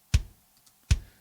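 Two punchy kick drum hits, evenly spaced about three quarters of a second apart, each with a deep thump and a sharp clicky attack; the kick drum has a Q24 Rezo resonant head.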